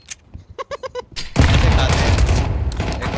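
Counter-Strike 2 gunfire on the Dust 2 map: a quick burst of evenly spaced shots, then a loud, sustained roar of dense shooting and noise, close and heavy throughout.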